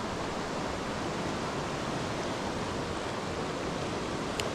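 Rapids of a South Carolina mountain river rush in a constant broadband roar, steady and fairly close, with no other sounds standing out.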